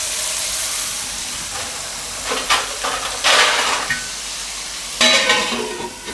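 Papdi beans cook in a pan over medium heat, giving a steady close sizzle and hiss with louder bursts as they are stirred, and no talking.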